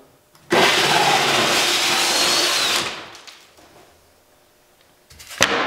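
A power drill bores a hole in a wall during a wall-hole repair: a loud, steady whirring burst of about two seconds that cuts off, then quiet and a brief clatter near the end.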